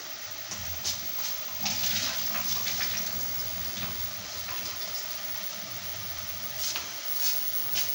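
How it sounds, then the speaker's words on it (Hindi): Water boils in a pot on the stove for chickpea lentils, giving a steady bubbling, rushing hiss close by, with a few sharper clicks and splashes now and then and no talk. "ये देखें पानी बॉईल हो रहा है"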